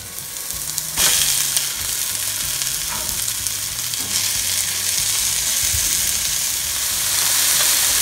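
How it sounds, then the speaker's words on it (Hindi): Onions and tomatoes frying in a pan, a loud, continuous sizzle and crackle with sharp bursts of spitting near the start that settle into a dense, steady hiss. "अब प्याज अच्छे से भून गया है,"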